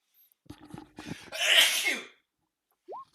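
A single loud sneeze after a few small breathy sounds, followed by quiet and a short voiced murmur.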